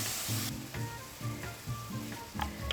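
Pork cubes frying in hot olive oil, a soft steady sizzle with a brief crackly burst near the start, broken by repeated low clunks and scrapes as the pan is worked.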